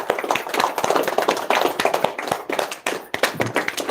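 A meditation class audience claps together after the session, producing dense, lively applause that carries steadily through the whole stretch at close range.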